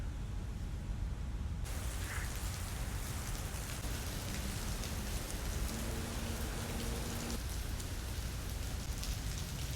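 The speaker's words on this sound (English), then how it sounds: "This is what I mean about the rain" Heavy rain pours down outdoors at a bayside pier, a dense, steady hiss of drops hitting surfaces that fills the whole span, loud and unbroken, with no one speaking.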